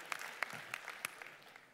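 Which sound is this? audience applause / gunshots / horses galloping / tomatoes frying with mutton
audience applause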